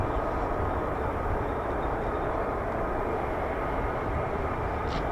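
An F-15 or F-35 fighter jet at RAF Lakenheath roars down the runway on takeoff, a steady, broad, loud rumble of jet engine noise held throughout.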